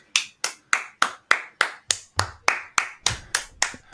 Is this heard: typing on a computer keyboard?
no